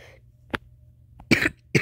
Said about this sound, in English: I just have, like, a cough.